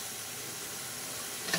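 Spice paste for a shutki and greens dish sizzles and fries steadily in a pan, an even close hiss with a brief louder crackle near the end.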